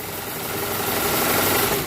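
A machine motor with a belt drive runs at full speed, a steady dense whir and hum that builds slightly over the short stretch, close and with no voices.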